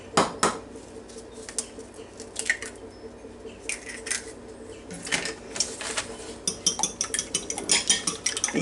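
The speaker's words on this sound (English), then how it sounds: "Make sure you get your flour mixed in there good." Flour being mixed in a bowl for fried onion chicken, with quick rhythmic clinks and scrapes of a utensil against the bowl that speed up toward the end, close and moderately quiet.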